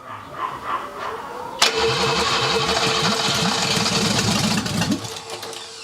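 An abandoned barn-find BMW that has sat for 30 years cranks, then catches abruptly and runs with a rough, loud, uneven engine note for a few seconds before cutting out.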